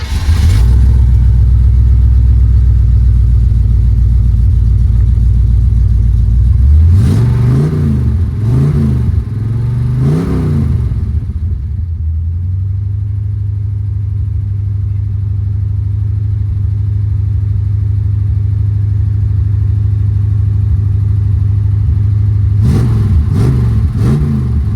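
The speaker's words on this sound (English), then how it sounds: "let's go ahead and start it up. A couple of pumps on the accelerator" A 1947 Studebaker M15 truck engine, a hotrod build, rumbles loud and close at a fast idle, then blips through several sharp revs, settles into a low steady idle, and revs twice more near the end.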